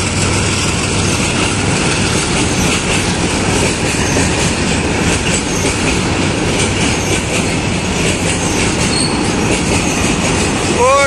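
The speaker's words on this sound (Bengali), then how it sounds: "Double sided train." A train rolls past on a rail bridge in a loud, continuous rumble of wheels and cars, close by, with a brief wheel squeal near the end.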